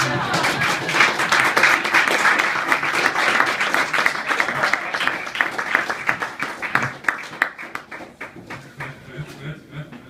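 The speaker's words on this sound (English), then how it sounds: "One more round of applause for Steve Zimmer." A comedy audience breaks into sustained clapping and cheering, a dense wash of applause that stays loud for several seconds before thinning into scattered individual claps.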